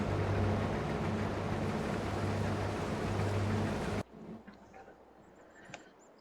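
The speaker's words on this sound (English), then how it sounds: "I'm now going to unfold the harvester" A combine harvester unfolds in Farming Simulator, a steady loud mechanical hum with a droning low tone for about four seconds, then cutting off to quieter clicks and faint movement noises.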